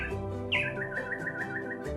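Birds sing and chirp in quick, bright bursts over a steady rural village background in Taşköprü, Kastamonu, Turkey, one call rising sharply before a run of repeated tweets.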